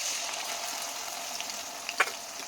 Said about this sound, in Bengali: মশলাটা এর সাথে ভালো করে একটু কষিয়ে নেবো